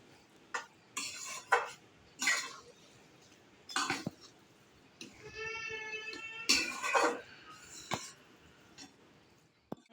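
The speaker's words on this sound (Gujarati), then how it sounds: "હવે તેને મિક્સ કરી દઈએ" Cashew, almond and coconut pieces are mixed into sukhdi with a spoon, giving irregular scrapes and clinks against the pan. A brief tonal sound rises midway, and the clinks stay close and moderately quiet.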